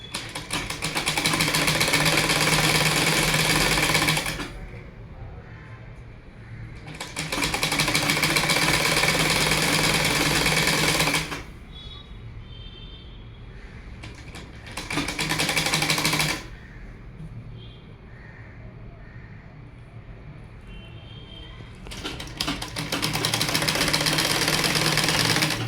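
Sewing machine stitching a sleeve into a garment, running in three loud bursts of rapid mechanical whirring separated by quieter pauses with faint handling sounds, the last burst starting near the end.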